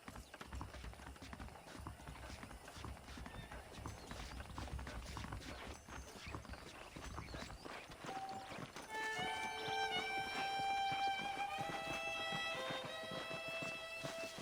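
Horse hooves clip-clop steadily in Red Dead Redemption, a western video game, as horses are saddled up. The hoofbeats run throughout, and game music with bright tones joins partway through.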